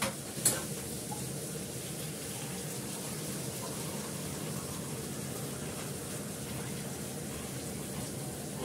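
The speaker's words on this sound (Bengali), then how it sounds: "এবার জল দিয়ে দেবো" Water poured into a curry frying in a pan gives a brief splash, then a steady low hiss and bubbling that carries on evenly, close and fairly quiet with no talking.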